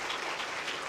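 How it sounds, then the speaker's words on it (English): Conference audience applauding a visiting professor, a steady wash of many hands clapping at moderate volume, filling the whole short moment without pause. "So once more, please applause"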